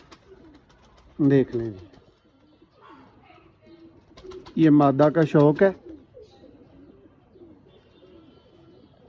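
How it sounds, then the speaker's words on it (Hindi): Red-eyed Chinese pigeons, females kept as a hobby, give two bursts of deep, throbbing cooing close by, the second longer and louder, while someone talks quietly between them. "ये कारीगर तरीन कबूतर हैं और जेठ वाले कबूतर हैं।"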